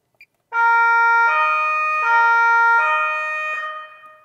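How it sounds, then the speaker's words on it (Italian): A Carabinieri Alfa Romeo Giulia police car's siren blares loud and close, a two-tone wail alternating evenly between high and low pitches about every three-quarters of a second, after a faint click. "da quest'altro la sirena"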